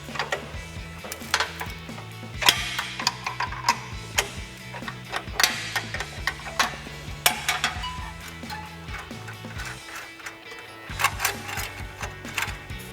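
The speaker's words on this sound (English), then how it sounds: "We're gonna take a 16mm wrench" A 16mm wrench loosens the exhaust crossover pipe clamp under a Ford Bronco, making quick, close, repetitive metallic ticking and ratcheting clicks that run steadily through the whole stretch, with no talk.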